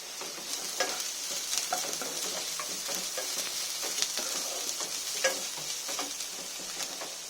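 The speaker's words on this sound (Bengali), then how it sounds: "ভালো করে আমি নেড়ে নেবো যাতে আদা রসুনের গন্ধটা যেন না থাকে।" Chopped ginger, garlic and green chilli are stir-fried in a hot pan, with a steady close sizzle broken by frequent light spatula taps and scrapes throughout.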